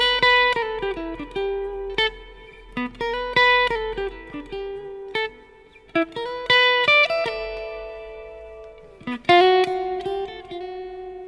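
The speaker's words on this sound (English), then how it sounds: "phrase number one is called the bluesy phrase, and it sounds like this." Clean electric guitar plays a bluesy neo-soul phrase within a pentatonic shape: plucked single notes and brief double-stops with sustained ringing tones, short pauses between licks, moderate level with no voice.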